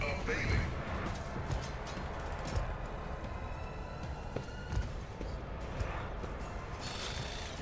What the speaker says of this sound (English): You just threw 3 frag grenades in a single turn?